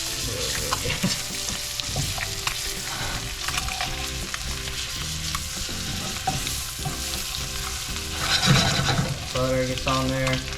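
Rockfish fillets fry in slightly burning butter in a pan, making a continuous loud sizzle and crackle with scattered pops. A few spatula scrapes rise near the end, and no one speaks.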